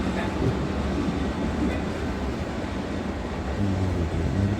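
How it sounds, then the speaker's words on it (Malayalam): A train rumbles past steadily, a dense low roar with faint rhythmic clatter of wheels, loud and continuous throughout. "ട്രെയിൻ വരുന്നുണ്ട്"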